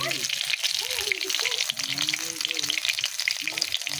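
Fish shallow-frying in oil in a pan gives a loud, crackling sizzle that runs throughout, while someone talks over it close by.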